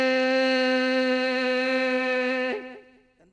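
A stage comedian imitates a train whistle with his voice, holding one steady, bright, whistle-like tone for about two and a half seconds before it wavers and fades out.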